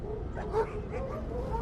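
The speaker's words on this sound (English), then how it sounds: "Call off one of the dogs." Several dogs bark and yip in a chaotic, crowded room, short overlapping yelps and whimpers under a continuous noisy background.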